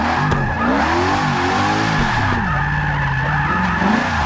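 A supercharged Ford GT350R roars in the racing game Forza 6, its engine note rising and falling in swooping pitch sweeps while tires skid and squeal steadily throughout, loud and alone without any talk.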